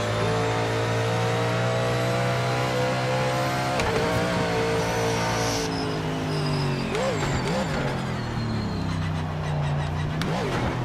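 A race car engine in Project Motor Racing revs hard and climbs through the gears, then blips and drops pitch on several quick downshifts near the end, loud and close throughout.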